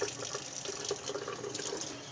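Cold tap water runs steadily into a bowl for washing fresh blossoms, a continuous close splashing and gurgling with no voices.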